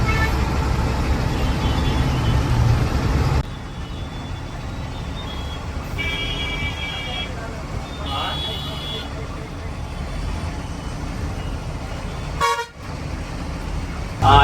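Busy road traffic at the Lingampally junction in Hyderabad, with a steady roar of cars, buses and trucks and a couple of short horn toots standing out partway through.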